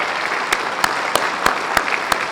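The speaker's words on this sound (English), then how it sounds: "Please join me in a round of applause for Lloyd Al Alabach and his wife Miriam" Audience applauding at an induction ceremony, a steady dense wash of clapping with several sharper, louder claps standing out at regular intervals.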